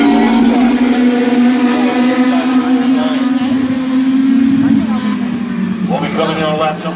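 Legends race cars roar around the oval at Midvale Speedway, a loud sustained engine drone that shifts pitch partway through, with a race announcer talking over it.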